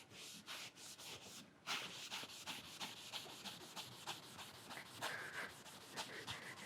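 A green abrasive pad rubs back and forth over a stainless steel butt weld, graining the metal in steady, rhythmic scrubbing strokes, close and fairly loud with no talk.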